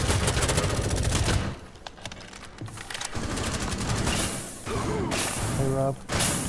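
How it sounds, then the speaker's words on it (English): Rapid automatic gunfire from a Rainbow Six Siege match rattles in loud bursts, pauses briefly, then resumes with more shots amid game clatter, while players talk over it. "Shoot through the wall right here."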